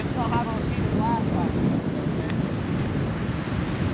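Ocean surf on a fishing day, a loud continuous wash of waves with wind buffeting the microphone, while a faint voice is briefly heard at the start.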